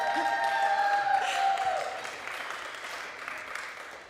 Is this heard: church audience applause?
yes